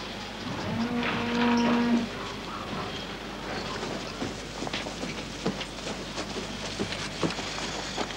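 Cows in a dairy barn give a long, loud low moo near the start. Fainter lows and clattering barn noise follow under a steady hum.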